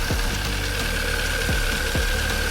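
A Hyundai Veloster turbo engine idles after a damaged piston was replaced, running steadily close up with a sustained whine and a few periodic low knocks or thumps spaced through the idle.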